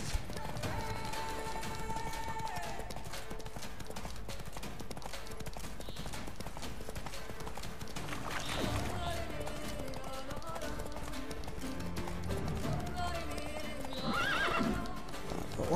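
Roach, Geralt's horse in The Witcher 3: Wild Hunt, gallops with rhythmic clip-clopping hooves and whinnies, set against steady game music at low volume.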